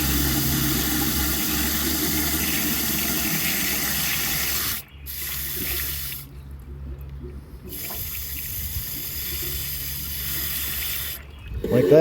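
Water runs and splashes steadily into the radiator of a 1965 Ford Thunderbird during a rebuild, a close gushing flow that pauses briefly a few times before resuming.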